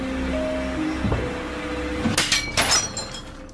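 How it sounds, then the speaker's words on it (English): A mirror shatters suddenly in a basement, with a sharp burst of breaking glass followed by a few scattered crashes and tinkling fragments over a steady low background hum. "were caught by surprise as a mirror suddenly shattered."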